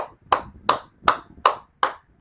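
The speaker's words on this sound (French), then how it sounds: "J'ai applaudi comme ça, pourquoi les amis?" One person claps hands six times at a steady, even pace, sharp and close, with nothing else sounding.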